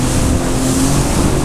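A Sea-Doo Fish Pro Trophy personal watercraft cruising on open water, its engine droning loud and steady with rushing water and wind noise close by.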